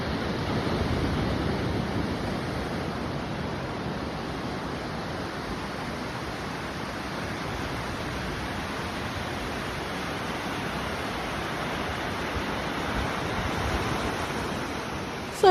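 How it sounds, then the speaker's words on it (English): Winter surf rolls in continuously at Middleton Beach in Albany, Western Australia, a broad steady wash of breaking waves with no voices. "So that is the sound of the waves at Middleton Beach in Albany."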